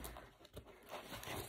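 Parcel packaging being torn open during unpacking, a quiet close-up burst of short ripping and crinkling sounds in irregular bursts.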